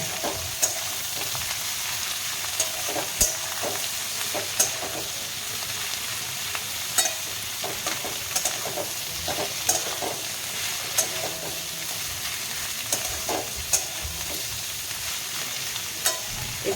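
Winter vegetables and onion fry in a pan for a rohu fish curry, giving a loud, steady sizzle throughout with regular light clicks of stirring.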